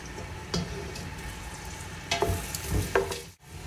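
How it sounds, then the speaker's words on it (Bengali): Onion fries in oil mixed with a little ghee, making a quiet, close sizzle broken by a few brief stirring scrapes and clicks. "এবার পেঁয়াজটা একটু ভাজা হোক,"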